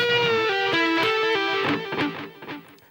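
Electric guitar playing a phrase from a solo, a quick run of descending picked notes with bends, close and clean before trailing off.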